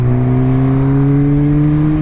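A 2017 Kawasaki Ninja ZX6R 636 four-cylinder motorcycle pulling in sixth gear from around 70, a loud, close, steady engine drone with a smooth sustained hum, no voices.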